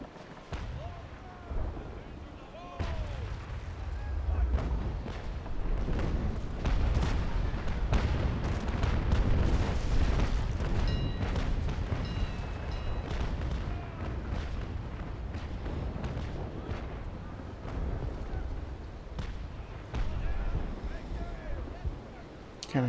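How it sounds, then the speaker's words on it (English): Ship cannon broadside in the Naval Action Legends video game, a rolling series of heavy booms and blasts over a sustained rumble of wind and sea, loud and dense for most of the stretch. "Can I fire another broadside at him?"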